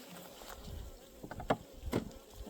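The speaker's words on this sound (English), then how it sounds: "One bee that's very unhappy with me." Honey bees around an opened backyard hive during an inspection, a low steady buzz with a couple of single bees droning close past the microphone, no talking.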